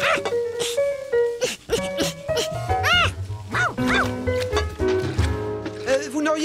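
An overexcited cartoon dog in a Curious George episode yips and barks several times in quick bursts over bouncy background music, with a voice speaking in between.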